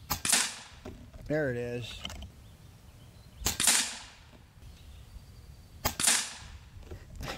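Three sharp shots from an FX Airguns Lil' Slugger PCP bullpup air rifle firing JSB 33.95 grain pellets, evenly spaced a few seconds apart, with a brief mechanical rattle and a short spoken phrase between them.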